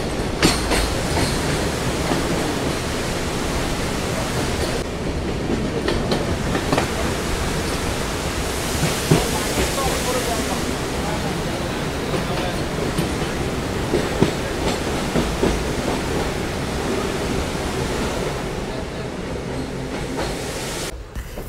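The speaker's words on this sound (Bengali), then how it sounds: "এরপরে আমাদের তিস্তা তোস্তা এক্সপ্রেস বিফোর 20 মিনিট আগেই আমাদের মালদা টাউন স্টেশনে ঢুকে পড়ছে" The Teesta Torsa Express rumbles along at speed toward Malda Town station, a loud, dense, continuous roar of wheels and carriage noise with faint rhythmic clatter, heard from inside the train without talk.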